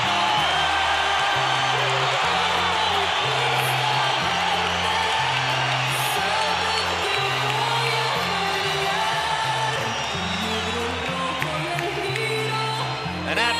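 A packed boxing arena of about 16,000 fans at a Mayweather versus De La Hoya fight roars with steady, dense cheering and whooping, loud and continuous with rhythmic music-like pulses underneath.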